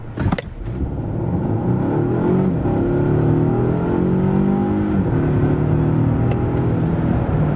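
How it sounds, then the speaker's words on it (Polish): A 2025 Volvo XC90 T8 plug-in hybrid with a 2.0-litre engine and 455 hp accelerates from 0 to 100 km/h, its engine note loud and close, climbing steadily in pitch through the gears with no speech. "Tak auto przyspiesza od 0 do setki."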